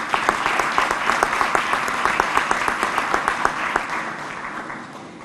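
Audience applause at a police district award ceremony, a steady patter of many hands clapping with distinct sharp claps, sustained for several seconds before gradually thinning and fading out.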